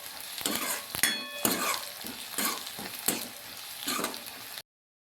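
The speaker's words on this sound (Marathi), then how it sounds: "त्याच्यामध्ये लसूण आणि कांदा दोन्ही आपण छानपैकी फ्राय करून घेऊया" Garlic and onion fry in a pan for a village-style gram-greens dish, a steady sizzle broken by several sharp stirring scrapes, close and moderately loud, ending in sudden silence.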